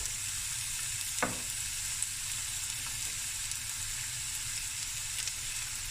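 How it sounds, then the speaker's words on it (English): Two chopped onions fry in oil in a pot for a Cape Malay tomato bredie, giving a steady, moderate sizzle with one brief stir knock early on; no talking. "I got some oil in my pot, 2 onions, chopped up."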